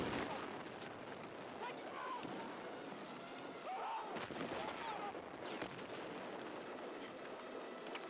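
Dense game gunfire and rocket blasts in Battlefield 6 rumble on without pause, loud and chaotic, with a voice speaking over the battle.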